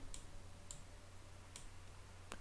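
A computer mouse clicks sharply in a quiet room, a few crisp isolated clicks spaced apart, with one quick pair at the end, over a faint electrical hum.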